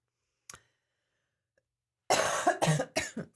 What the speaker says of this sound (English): try not to cough into the microphone